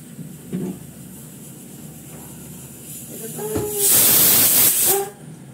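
A pressure cooker on a stove lets off steam in a loud, rushing hiss that builds and cuts out abruptly, with short whistle-like bursts and faint background sounds around it.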